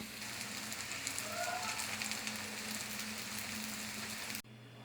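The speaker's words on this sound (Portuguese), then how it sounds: "2 ovos batidos e os omeletes já estão fritando" Omelettes of beaten eggs mixed with a little flour sizzle steadily in a pan of hot fat, a soft continuous crackle close by that cuts off abruptly near the end.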